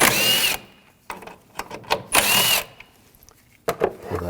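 A power tool fitted with a 10mm socket whirs in short bursts while removing bolts from a 2007-2013 BMW 328i 3.0L during a thermostat housing job, with close mechanical clatter and handling noises between the runs.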